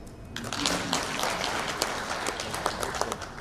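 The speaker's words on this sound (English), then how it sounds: "We need those big claps" A crowd at a national dialogue event on ending violence against women and girls claps, a dense rolling applause with some sharper individual claps standing out, steady and fairly loud for the full stretch.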